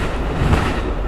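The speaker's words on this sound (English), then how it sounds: "That was the train that's going to Seattle" An Amtrak passenger train bound for Seattle rumbles past close by, a dense continuous roar of wheels and rail noise with a heavy low-end drone and no pause.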